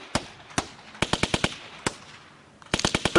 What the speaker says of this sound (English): it's made out of gunshots. Gunshots on a beat.